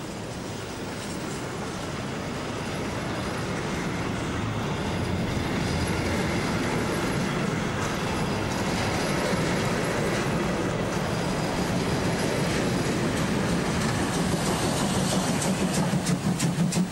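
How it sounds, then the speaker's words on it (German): A long freight train in the Werra valley, hauled by two class 44 steam locomotives with a class 41 pushing at the rear, rumbles past steadily, growing louder with rhythmic wheel clatter and chuffing toward the end. "So einen langen Güterzug mit gleich zwei Maschinen der Baureihe 44 hat es lange nicht mehr gegeben"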